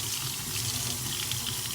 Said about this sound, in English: We're going to run it under cold water very briefly.